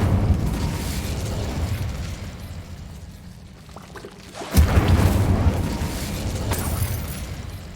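An Incendio fire spell cast in Hogwarts Legacy: a steady rushing roar gives way to a sudden loud burst, then a sustained crackling, whooshing blaze that continues to the end.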